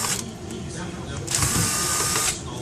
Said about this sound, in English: so let's remove those. Four short screws.